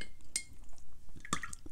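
Paintbrush knocking against glass water jars while mixing watercolor paint, a few short bright clinks with light liquid sloshing, close and fairly quiet.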